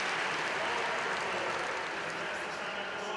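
A sellout stadium crowd at the 2009 Athletics World Championships cheers and applauds for German athlete Helga Schwarzer, a steady, dense roar throughout, with a commentator talking over it.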